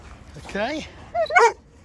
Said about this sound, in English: A silly boy with his barking.